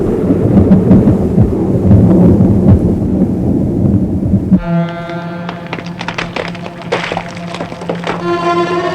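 A loud, rolling rumble of thunder from a lightning storm fills the first half, low and dense, then cuts to a quieter scene where tonal hums and clatter take over.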